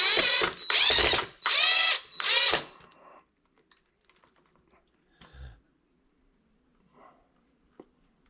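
A power drill driving a long screw to fix a figure onto a rock, heard as four loud, close whining bursts in quick succession, followed by quiet with a few faint knocks.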